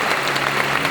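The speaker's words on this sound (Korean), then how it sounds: "큰 박수로 힘을 주시고 격려해 주시기 바랍니다." A crowd of guests applauds steadily at a pastor ordination ceremony, a dense, even wash of clapping filling the whole moment.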